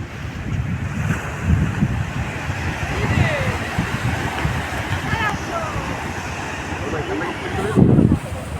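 Sea waves roll and wash onto Patenga beach in the midday wind, a loud, continuous surf roar with gusty rumble buffeting the microphone and swelling near the end.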